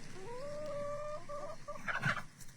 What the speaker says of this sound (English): I've got all my little chicken buddies.